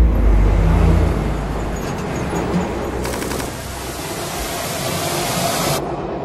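A truck drives off in an audio drama with a heavy, loud engine rumble and a steady road roar. A deep low surge at the start settles into a constant rushing drone.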